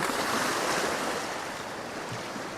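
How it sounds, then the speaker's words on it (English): Ocean waves break and wash onto a shore under a darkening stormy sky at dusk, a steady, close, full roar of surf with a faint rise and fall and some wind noise. "here comes a nice wave now"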